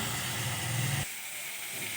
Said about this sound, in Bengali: অল্প একটু জল দেব, মশলাটা ভেজে নেব।